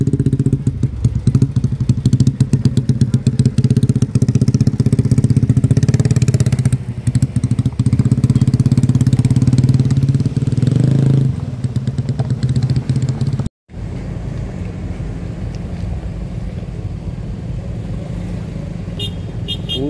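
Cars and motorcycles queuing in heavy traffic at Batu Jomba on a road just reopened to four-wheeled vehicles, a loud close rumble of idling and creeping engines with revving motorbikes, continuous throughout, briefly cut near the end.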